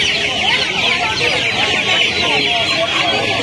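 Australian-breed chickens cluck continuously at a poultry market, a close, crowded chorus of fowl with voices mixed in the background.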